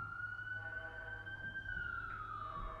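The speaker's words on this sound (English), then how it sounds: "In fact, I'm sure you hear those sirens." A single emergency vehicle siren wails in the distance, one long rising and falling tone, faint and steady over low background rumble.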